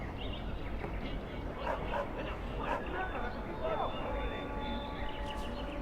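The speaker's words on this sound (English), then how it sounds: "I fear your hound has the kitchens in uproar once again" A Mabari hound in Dragon Age Origins barks and yips in short bursts, fairly faint, over a low background bed in a castle setting.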